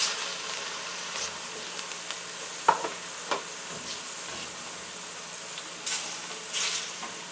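Steady frying sizzle of shrimp in a frying pan for fried rice, with occasional stirring scrapes and light clinks, close and continuous, no voices.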